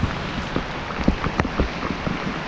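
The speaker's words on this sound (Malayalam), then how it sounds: "അപ്പൊ നമ്മുടെ ഇവിടെ മഴ വന്നിട്ടുണ്ട്" Kerala monsoon rain falls in a steady patter, with scattered sharper drop hits and a few louder splats, close and without voices.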